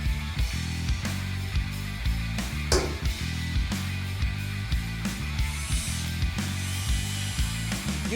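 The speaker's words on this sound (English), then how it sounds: "Using a step drill, I'm just going to make my way through the aluminum" A step drill bores through an aluminum radiator mount on a Ford Ranger prerunner, producing a loud, close whine that pulses in short repeated bursts as the bit bites, with a brief sharp scrape midway.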